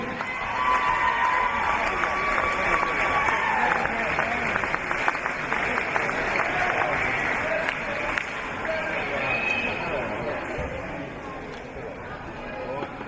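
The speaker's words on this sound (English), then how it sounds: "Big round of applause for all our league award winners." Sustained audience applause with dense clapping and some cheering, a crowd filling the room at steady volume for the whole stretch, for league award winners at a women's basketball grand final.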